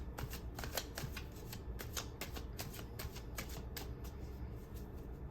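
Tarot cards shuffled by hand during a reading, a steady run of soft riffling flicks and papery slaps, close and fairly quiet over a low background hum.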